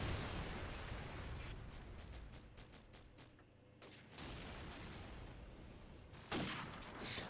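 Call of Duty 4 match at a Stuttgart LAN esports event: dense rapid gunfire and bursts of shots rattling continuously, loud and close, with a short lull in the middle before the firing resumes.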